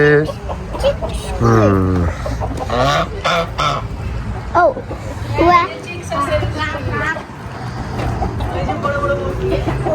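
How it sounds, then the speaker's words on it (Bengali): Chickens, ducks and other farm fowl honk and cluck close by while people talk steadily over and between the calls. "বিভিন্ন প্রজাতির মুরগি রাখা আছে, হাঁস রাখা আছে।"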